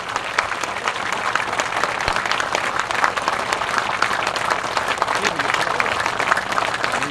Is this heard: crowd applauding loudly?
yes